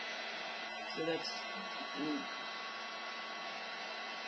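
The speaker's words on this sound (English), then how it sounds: "I just happen to have a heat gun" A heat gun blows steadily while warming the glass panel of an iPhone, a constant broadband whir with an electrical hum that runs for the whole stretch, with a brief voice speaking over it.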